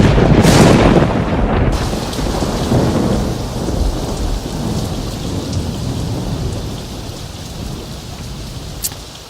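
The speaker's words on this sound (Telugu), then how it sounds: "ఏమిటో ఈ వర్షం" Heavy rain pours steadily while a loud thunderclap booms at the start and rolls away, leaving a constant hiss of rainfall on surfaces that slowly eases.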